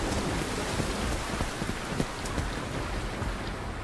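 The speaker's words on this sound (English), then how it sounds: "Mid-December, the rains come." Heavy jungle rain pours in a dense, continuous roar with scattered louder drops, steady and close with no voices.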